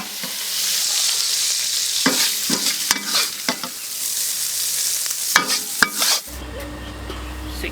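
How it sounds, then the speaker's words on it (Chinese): Meat and chili peppers are stir-fried in a hot wok, giving a steady close sizzle with repeated scraping spatula strokes for several seconds. No one speaks, and a low hum comes in near the end. "让它这个肉和辣椒混合一下"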